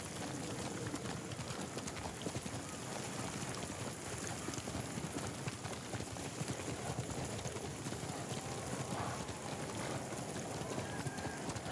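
In Ghost of Tsushima the horse Nobu trots along with a steady, close clip-clop of hooves over constant ambient noise, while voices speak faintly at times.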